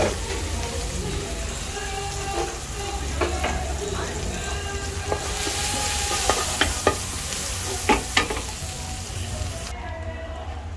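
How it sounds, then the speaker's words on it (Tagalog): Garlic sizzles in a hot pan with margarine, a steady close frying hiss broken by scattered clicks and scrapes of stirring. "Ngayon, ilagay na natin ang ating bawang."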